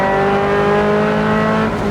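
A Toyota MR2 with a swapped-in Camry engine pulls hard on its first drive, its engine drone loud and close from inside the car, a steady harmonic growl throughout.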